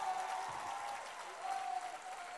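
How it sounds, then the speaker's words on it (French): A church congregation applauding, a steady, fairly faint wash of clapping that holds evenly throughout without a clear start or stop. "Acclamez pour vous-même."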